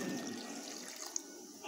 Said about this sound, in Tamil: ஆட் பண்ணி ஒரு டம்ளர் தண்ணி ஊற்றிக்கலாம்.